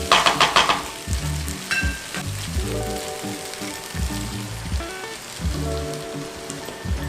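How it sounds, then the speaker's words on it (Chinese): A tofu stir-fry in a pan simmers and sizzles after shiitake mushroom soaking water and a little plain water are poured in. It bubbles and spatters steadily with a brief splash at the start, and there is no talk. "我们把刚刚的香菇水，还有再倒入一点水，"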